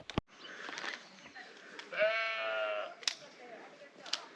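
A goat or sheep bleats once in a wavering, drawn-out call on a forest pilgrimage trail in Japan, fairly close and clear, with a few soft footsteps and knocks around it.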